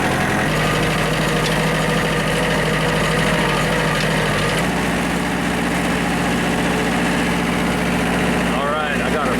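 A tractor with a front end loader idles nearby on a rural property, a loud, steady low rumble that runs the whole time with a slight shift in pitch partway through, while someone talks over it.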